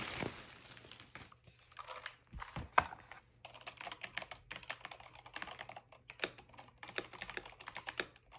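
Typing on a SteelSeries Apex Pro TKL keyboard, rapid irregular key clicks close up, mixed with crinkling plastic packaging at the start.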